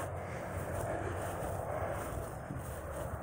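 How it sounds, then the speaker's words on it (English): An airplane takes off in the distance outdoors, a steady broadband roar held low and even under light wind. "Another plane over there taking off."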